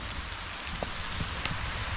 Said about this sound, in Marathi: हे बघा मस्तपैकी पाऊस पडतोय